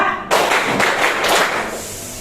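Classroom of pupils performing a rhythmic clapping chant routine, a sudden loud burst of many hands striking together in a few accented pulses, close and crowded, with no talk over it.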